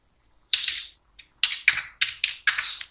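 Quick bursts of keystrokes on a computer keyboard as an ID card number is entered, a first short run and then several closely spaced clusters of crisp taps, near and clear in an otherwise quiet room.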